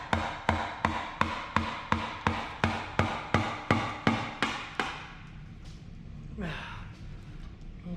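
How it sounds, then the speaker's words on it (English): A big hammer strikes a Duramax engine part in a steady run of about fourteen loud, sharp metallic blows, then stops, leaving quiet shop noise and a brief scrape. "A big snappy hammer here."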